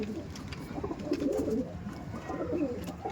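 KGN pigeons coo in a loft, with soft, throaty, warbling calls that repeat in close, continuous low murmurs and rise slightly at intervals, with a faint background hum.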